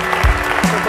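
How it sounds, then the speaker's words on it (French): Brief applause at a La République En Marche council meeting, with a low voice and a soft thump over the clapping. "on peut l'applaudir"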